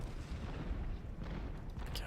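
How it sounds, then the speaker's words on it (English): Cannon artillery booms in a Civil War battle game, a steady barrage of deep rumbling shots blending into a continuous low roar, fairly quiet with no clear talk over it. "God, so many cannons."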